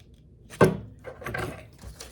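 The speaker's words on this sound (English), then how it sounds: "I'm so nervous about cutting through because these scissors are really sharp." Sharp kitchen scissors cutting through craft paper, one crisp snip followed by a couple of softer rasping cuts, close up and quiet.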